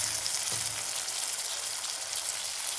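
Tomatoes frying in oil with crushed chili thecha for a dry cauliflower and pea dish: a steady, close hiss of sizzling oil with a faint dull bump early on, no one speaking.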